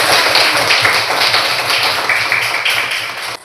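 Students in a Catholic religious education classroom clap their hands together in a loud, close, continuous round that lasts a few seconds, with no talking over it.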